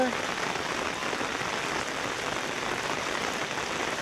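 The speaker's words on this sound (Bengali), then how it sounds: "কিছু সময় পরে বৃষ্টি শুরু হয়ে গেছে বৃষ্টি শুরু হয়ে গেছে" Rain falls steadily on a field where sheep are grazing, a dense, even hiss of drops on the ground that continues without a break.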